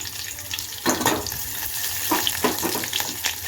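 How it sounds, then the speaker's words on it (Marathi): Chopped onion fries in hot oil in a home kitchen pan, giving a steady hiss that swells with a few louder bursts as it is stirred; no one speaks. "कांदा छान असा फ्राय करायचा"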